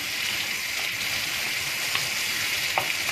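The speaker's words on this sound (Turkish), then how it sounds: "Onlarla birlikte tekrar soteliyoruz." Leeks sautéing in olive oil with a little tomato paste give a steady close sizzle, with faint spoon scrapes and stirring ticks throughout.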